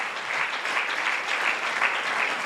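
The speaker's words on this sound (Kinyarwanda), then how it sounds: "Amashyi menshi ku Mwami Yesu Kristo." A church congregation claps for Jesus Christ at a sermon on prayer: dense, sustained applause from a large crowd, steady throughout with no talk over it.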